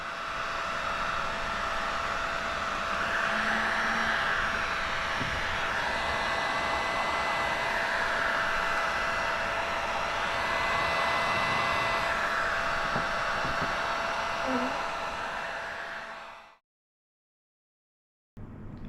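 A heat gun blows a steady, loud whoosh while warming paint protection film on a Toyota Supra hood, running continuously with a faint tonal whine for about sixteen seconds before cutting off abruptly into silence.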